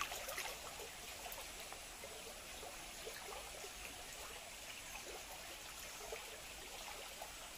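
Water of a small Konkan stream flows with a faint, steady trickling babble that runs without a break and has no voices over it.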